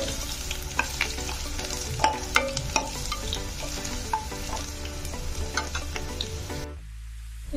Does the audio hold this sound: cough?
no